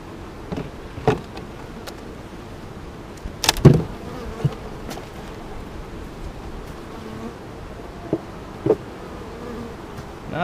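Honeybees buzzing close by at a hive in short, uneven passes, one loud sweep near the start, over a quiet background with scattered faint clicks.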